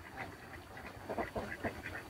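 A flock of Khaki Campbell ducks kept on an abandoned pond quacks in short, repeated bursts, fairly faint and slightly distant, with no talk.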